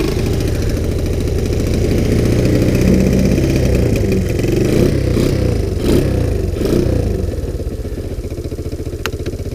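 A Sunl 110cc ATV engine, cold after sitting out overnight on a chilly morning, runs at a loud, steady, slightly uneven idle close by, with a few brief rattles midway.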